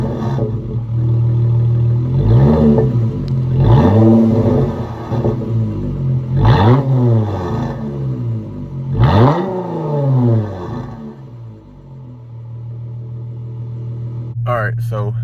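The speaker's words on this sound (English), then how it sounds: "I'm going to rev the engine a little bit, see if we can get any crackles and pops out of the revs" A V6 car engine revs about five times in rising and falling bursts, close and loud, with faint crackle between revs before settling to a steady idle.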